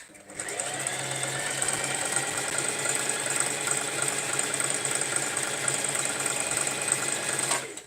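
A sewing machine running continuously for several seconds, a close, steady mechanical whir with a high whine and rapid needle chatter that stops abruptly at the end.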